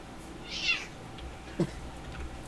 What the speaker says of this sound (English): he has been meowing up a storm as of late